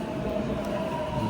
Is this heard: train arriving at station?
yes